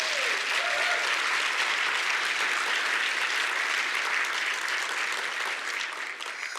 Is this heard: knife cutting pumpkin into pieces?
no